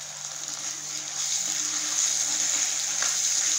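Chopped tomato sautés in a pan over ginger-garlic paste for a semolina biryani, giving a steady, close, even hiss that swells slightly partway through and never breaks, with nobody talking over it.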